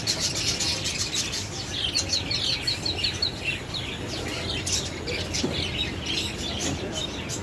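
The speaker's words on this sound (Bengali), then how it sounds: "বিভিন্ন ধরনের পাখি আছে।" Many small birds in a pet bird shop chirp and tweet continuously in a busy, overlapping chorus, with a few louder squawks rising above the chatter.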